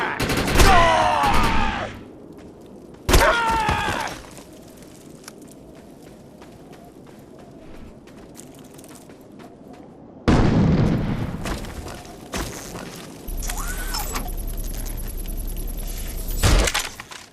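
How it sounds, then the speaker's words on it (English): Bursts of heavy light machine gun fire in the shooter game Defiance, loud and close, in separate volleys with quieter gaps between, mixed with game effects and shouted combat voices. "The light machine gun is big, loud, and powerful. Its bursts are capable of crippling the enemy from both close and afar."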